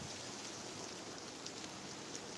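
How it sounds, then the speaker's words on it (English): Steady rain from a thunderstorm patters densely on surfaces nearby, a constant hiss with occasional sharper drops and no voices. "Hear the rain."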